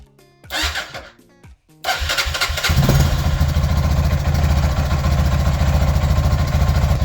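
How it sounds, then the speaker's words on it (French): A rebuilt Adly 400xs ATV quad cranks a few times with brief bursts and pauses, then catches and settles into a loud, steady idle that runs on to the end. "c'est parti pour le redémarrage du quad"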